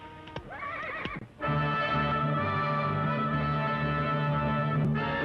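A horse whinnies loudly and close by, a long rising neigh with a brief earlier call, alone without talk.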